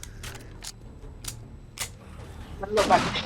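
Gunshots in the zombie game 7 Days to Die, a handful of sharp, separate cracks spaced through the moment, ending in a louder burst of clatter.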